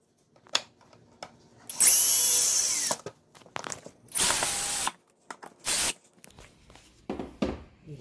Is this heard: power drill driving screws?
yes